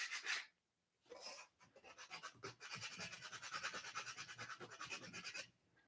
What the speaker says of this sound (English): We're going to sand this side down.